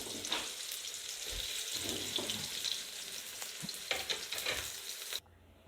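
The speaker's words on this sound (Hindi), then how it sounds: "इसके बाद हमने शामिल करना है अदरक और लहसुन। इनको हमने एक साथ भून लेना है।" Ginger and garlic frying with browned onion in a pan, a close steady sizzle broken by scraping stirs and spoon taps, stopping suddenly near the end.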